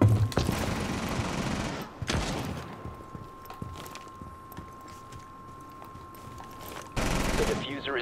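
Automatic rifle fire from an AK-12 in the Rainbow Six Siege video game, a loud burst at the start and another near the end, with gameplay noise and a steady tone in between.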